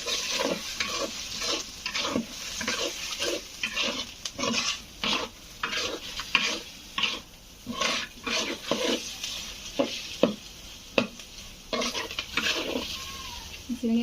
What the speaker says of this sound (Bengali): চিংড়ি মাছটা কষে নিয়েছি